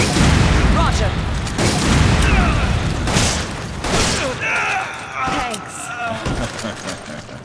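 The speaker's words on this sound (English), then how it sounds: "can hear gunfire" Rapid bursts of gunfire and booms fill the mix continuously, loud and dense, with voices shouting over the chaotic combat sounds in Resident Evil 5 Versus.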